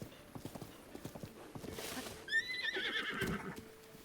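Video game audio from Zelda: Breath of the Wild: hooves clop in a quick steady rhythm, then a horse gives a loud, high whinny midway through.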